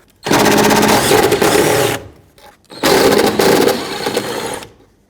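A power tool removes the two 10mm taillight bolts on a 1996-2002 Toyota 4Runner, two loud close bursts of rapid ratcheting buzz, each about two seconds long, separated by a short pause.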